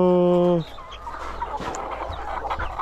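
Backyard chickens in a coop, where a loud, sustained tonal squawk opens and then gives way to several birds clucking softly and steadily, close by, with no clear talk.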